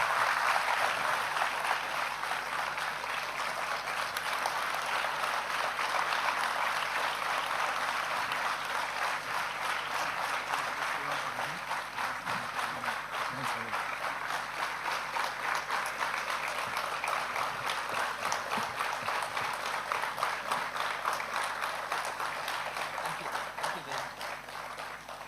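Long, steady applause from a large hall audience after a humanitarian oration by Dr. Ravi Kannan, a broad uniform wash of clapping that holds for about twenty-five seconds before easing slightly.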